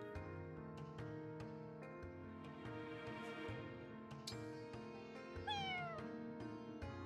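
A cat meows in the game Fire Emblem Engage, a short rising mew near the end, heard over a layered orchestral music track with plucked notes and sustained chords.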